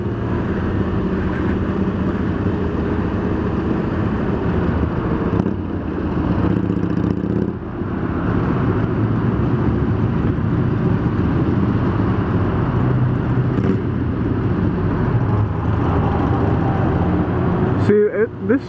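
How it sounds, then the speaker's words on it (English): Road traffic passing around a rider on a 600 motorcycle, a steady dense roar of engines and wind noise throughout, loud and close, with someone talking over it. "See, this freaking traffic's just ridiculous."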